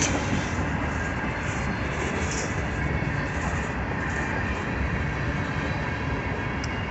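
A CSX freight train rumbles past in a steady, dense roar of wheels and rail noise, close and continuous with no pauses.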